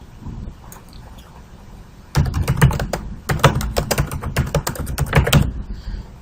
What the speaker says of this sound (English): first of all you want to type the text that you want.